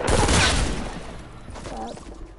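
A shotgun fires in a video game as one loud, noisy blast at the start that fades into quieter game sounds.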